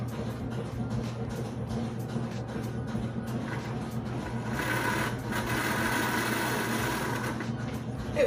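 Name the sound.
small motor running in a miniaturized drivetrain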